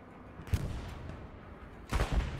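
Gunfire from a competitive multiplayer shooter match, a couple of muffled in-game shots or blasts at about half a second and again near the two-second mark, fairly faint over a low background rumble.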